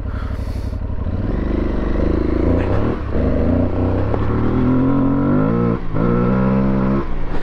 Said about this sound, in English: That's acceleration from 1500 RPM in third gear.